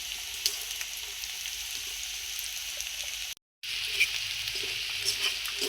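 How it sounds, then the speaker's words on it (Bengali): Cooked rice and salt hit a pan where egg has just fried, giving a faint, steady sizzle with soft crackles. Sound cuts out briefly midway, then the frying resumes. "এখন আমি ভাতের মধ্যে অল্প একটু লবণ দিয়ে ভাতগুলি দিয়ে দিতেছি"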